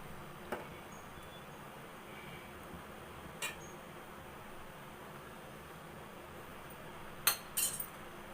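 A spoon stirs boiling stingray fish curry, Kanniyakumari style, in a pot, giving a few sparse metallic clinks against the rim over a soft, steady bubbling hiss, with a quick double clink near the end.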